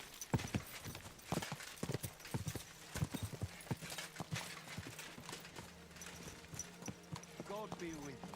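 A horse's hooves clip-clop at a walking pace in the medieval game Kingdom Come: Deliverance II, a steady rhythm of hoofbeats with a whinny and faint ambient sounds around them.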